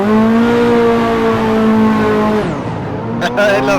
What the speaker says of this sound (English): The most difficult part is anticipating the turbo to spool up